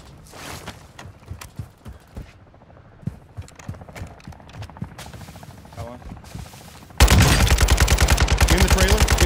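Gunfire in Call of Duty Warzone DMZ: scattered single shots and footsteps build up, then a sustained, loud automatic burst of rapid-fire rounds dominates the final seconds, close and continuous.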